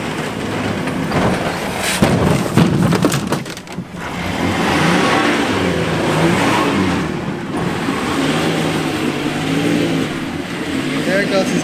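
A truck engine revs hard and roars as it pulls out, loud and close, with a sharp burst of noise early on and people talking over it.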